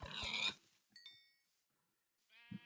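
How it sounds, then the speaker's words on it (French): A video game pig lets out a short squeal, then brief oinks and a later grunt-like burst, separated by near silence, with no talk over them. "Pauvre cochon."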